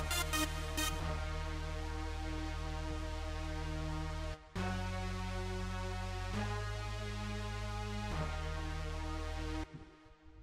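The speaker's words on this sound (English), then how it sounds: "that's the note for the bass and brass." Sustained Nexus bass and brass synth notes from an electro trap track, loud and held, changing pitch a few times before cutting off near the end, with no voices.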